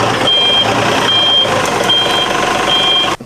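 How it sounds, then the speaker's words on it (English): Truck reversing beeps during a backyard vehicle rescue: four evenly spaced, loud, high electronic beeps over a rumbling, idling diesel engine. "that beeping is so annoying"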